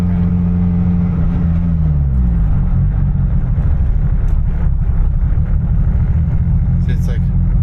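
Close, loud engine roar from a Mitsubishi Evo 8 accelerating under boost, rising in pitch over the first few seconds and then holding a dense rumbling drone, with brief faint chatter near the end.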